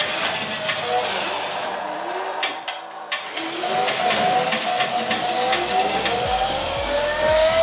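A motorized toy school bus runs along a homemade DIY bus track, giving a steady, close whirring motor drone whose pitch slowly climbs, with a brief dip in the middle.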